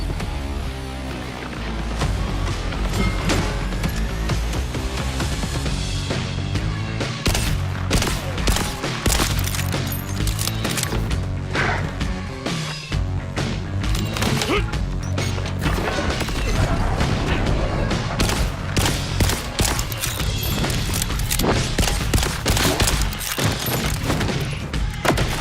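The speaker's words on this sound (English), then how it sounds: "Grenades work nice" Dense, continuous combat in Borderlands 4 with repeated booming grenade blasts among heavy gunfire and crashes, loud and close throughout with almost no pauses.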